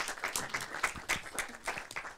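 Audience applause after a film screening, a dense, steady patter of many hands clapping throughout the short span, moderately loud with no talk over it.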